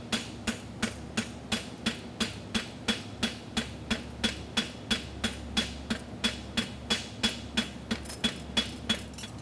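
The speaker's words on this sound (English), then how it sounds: "with the heel of my hammer flatten up everything really, really nice right there" A steady series of sharp metallic hammer taps on a horseshoe clip, about three per second, ringing close and clear with nothing else heard.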